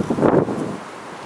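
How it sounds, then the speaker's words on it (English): Strong gusts of a windstorm roar through trees, a broad rushing surge that peaks early and then eases into a steady, softer blowing with faint rustle. "I'm surprised more branches haven't fallen over, but that's what these windstorms do."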